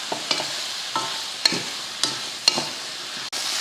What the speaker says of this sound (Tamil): இது கூட நம்ம பொரிச்சு வச்ச சோயாவை சேர்த்துடலாம். சேர்த்துட்டு கலந்துருவோம்.